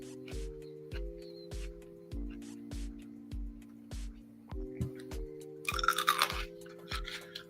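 Close, crisp crunching from a mouth chewing raw celery, with repeated regular bites and rising crackle near the end, heard alone over a low steady electronic hum.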